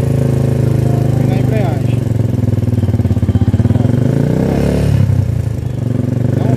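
Steady motorcycle engine held at raised revs by throttle on a beginner riding lesson, a loud continuous drone with slight swells, and someone talks over it throughout.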